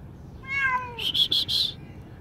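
Trapped in an emptied pool, a cat lets out one clear, harmonic meow, followed by a quick run of four sharp, bright bursts; no voices are heard.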